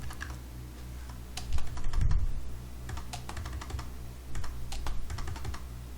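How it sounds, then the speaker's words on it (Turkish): Fingers type a 16-digit Mastercard number on a computer keyboard, a steady run of light, close key clicks with a few brief pauses and no speech. "Gördüğünüz gibi rakamları yazıyoruz arkadaşlar."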